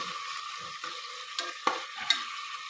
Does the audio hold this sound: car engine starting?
no